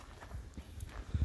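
A big horse walking, its hooves giving a few soft, uneven clip-clops close by, the last two steps heavier and louder.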